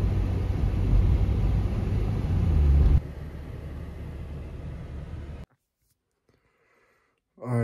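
Steady low road rumble and drone from inside a car driving on the road, loud and continuous, with a brief shift in tone midway, then an abrupt cut to near silence before the noise returns.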